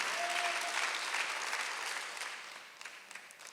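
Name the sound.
congregation applauding in church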